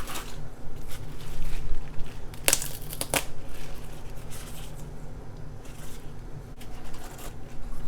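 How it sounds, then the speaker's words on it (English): Chinese cabbage leaves are snapped and broken off by hand, giving crisp crunching and crinkling sounds with a couple of sharp snaps, close and fairly quiet over faint background. "I'm going to find some nice wholesome leaves like that, break them off"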